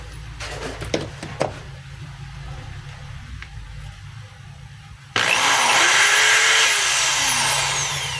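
A Stanley SDH600 hammer drill is test run. After a few faint handling knocks, the motor suddenly whirs to life with a loud, steady high-pitched drone close by, held for several seconds.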